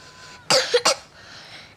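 A child's cough bursts out twice in quick succession, close and fairly loud, against a quiet room with faint background hiss.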